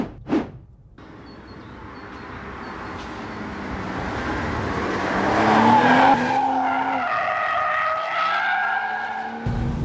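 BMW 4 Series Coupé taken fast through a bend, its tires squealing in rising, sustained screeches over a steady engine roar, loud and close throughout.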